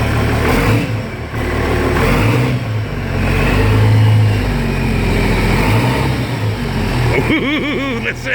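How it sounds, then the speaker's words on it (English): International Harvester IH 1086 tractor with a straight pipe and turbo revving up, a loud, close engine roar that rises and falls in several surges, with turbo whistle and spooling heard at the end. "Ooh, listen to that turbo."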